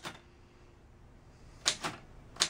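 Typewriter keys strike sharply, with a single clack, then a quick pair, then another lone hit, close and crisp against a quiet room.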